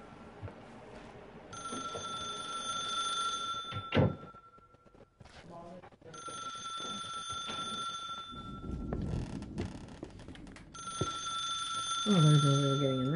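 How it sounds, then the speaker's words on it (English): A telephone rings in a video game, repeated bursts of an electronic bell pattern separated by pauses, moderately loud, with thumps and someone talking between the rings. "Oh, great, and there's a ringing telephone"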